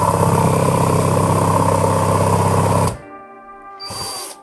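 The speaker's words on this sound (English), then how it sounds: "Switch the screwdriver against the rotation of the drill," A power drill spins a twist bit in reverse to cut a chamfer in wood, a loud steady whirring motor for about three seconds that cuts off, followed by a faint high whine winding down.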